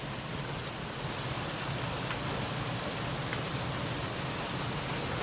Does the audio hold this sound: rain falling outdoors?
yes